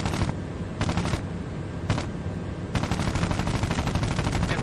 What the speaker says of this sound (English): We're going to get lined up for a gun run.